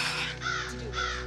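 Crows caw from trees outdoors at night, several harsh calls overlapping against a dense background hum, with no talk.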